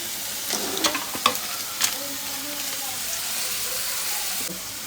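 Large-cut chopped onion roasting in a pan: a steady sizzling hiss runs throughout, broken by a few sharp scrapes and clinks of stirring near the start.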